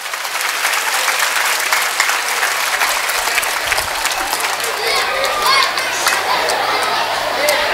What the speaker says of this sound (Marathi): आयांनी पहिल्यांदा टाळ्या वाजवायला काही हरकत नाही